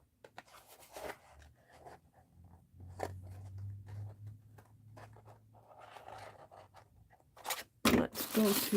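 Small scissors cut out a paper doll with scattered crisp snips and paper rustles, faint and close, with a low hum and a louder crinkling burst near the end.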